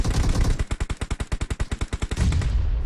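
An Uzi submachine gun fires in PUBG Mobile, a single rapid burst of about twenty evenly spaced, punchy shots lasting under two seconds, loud and close against game noise.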